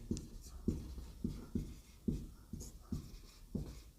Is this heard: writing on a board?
yes